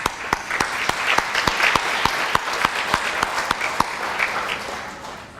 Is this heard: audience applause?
yes